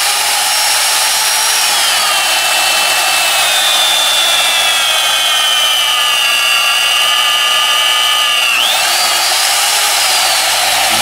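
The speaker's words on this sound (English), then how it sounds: "tells me that I'm ready to start drilling" A steady, loud motor whine of an Alfra RB35SP magnetic drill boring dry into steel, with a pitch that sags under load and then jumps back up near the end, no talking.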